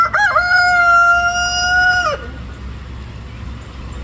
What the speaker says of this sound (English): And Steve let the chickens out, and they are molting